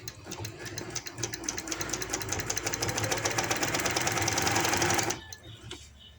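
A sewing machine stitches along the edge of palazzo pants fabric, a rapid, even mechanical rattle running for about five seconds before stopping abruptly, close and clear with no talk.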